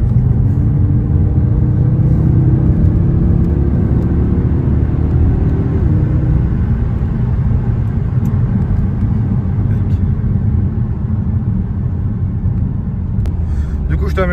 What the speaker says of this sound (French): Allez, fais-nous marcher le quattro là.